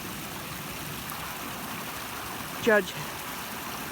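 A river in the Peak District near Bowden Bridge, on the way to Kinder, flows over rocks with a steady, close broadband rush. A single brief spoken word cuts in near the end.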